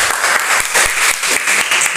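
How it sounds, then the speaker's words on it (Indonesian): Students in a classroom applaud a classmate, a short burst of brisk, loud, close clapping from a small group. "tepuk tangan untuk Mas Adit"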